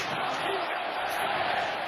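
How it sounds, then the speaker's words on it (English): Sellout crowd at Clemson's Death Valley stadium during a Texas A&M vs Clemson college football game, a broad steady roar of cheering with no distinct peaks. "Fired up sellout crowd as usual here at Death Valley"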